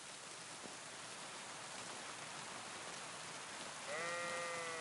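A ram bleats once near the end, a short nasal call rising over steady rain pattering on a surface; no one speaks.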